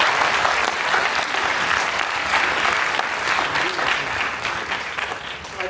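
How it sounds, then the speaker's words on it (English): Sustained audience applause fills a fireside chat hall, dense steady clapping from many hands, loud and continuous throughout with no talk over it. "If I may, before you all clap, just okay, clap first, clap first."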